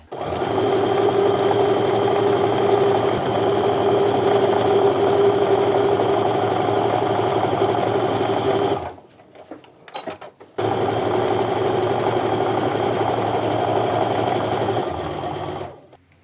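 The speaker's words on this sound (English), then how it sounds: "continue sewing your row together until it's all done" A sewing machine stitches a quilt row together, running loud and steady at close range for about nine seconds, pausing briefly, then resuming for several more seconds before stopping.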